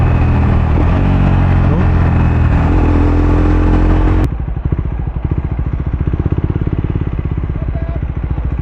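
Triumph Speed 400 motorcycle fitted with a Muff City slip-on exhaust, a loud close engine note that drops abruptly midway into a rapid low burbling pulse as it downshifts, with a brief spoken word near the end.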